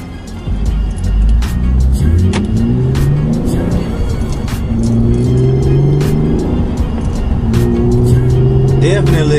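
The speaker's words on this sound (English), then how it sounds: "Definitely gotta make this exhaust a lot louder than what it is." Hyundai Genesis Coupe exhaust droning steadily from inside the cabin while driving on a road, a continuous low engine tone that swells as it accelerates, with the driver's voice in the car now and then.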